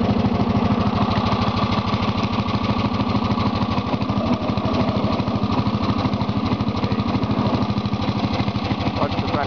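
A homemade lawn tractor with a plow lowered creeps along slowly, its small engine chugging steadily and loudly up close throughout, with a person talking over it.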